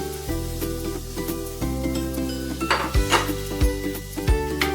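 A spoon scrapes and clinks against a pot while a mushroom and banana blossom curry with coconut milk is stirred, a steady mechanical hum beneath and several distinct metallic knocks near the end, close up with no talk.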